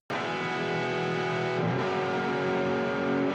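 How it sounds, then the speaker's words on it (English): Big, sloppy distorted rock guitar chords on open strings ring out dense and sustained, one chord changing to another midway, loud and steady with no talk. "just ended up having two kind of sloppily delivered rock chord"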